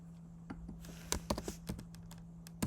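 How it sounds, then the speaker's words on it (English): A computer keyboard clicks with scattered, irregular keystrokes, some in quick bursts, close and clear over a steady low electrical hum. "So if I keep typing"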